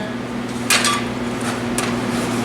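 Metal pin pulled from Rescue42 Sharks step chocks, a few close, sharp metallic clinks and taps over a steady low hum of background noise.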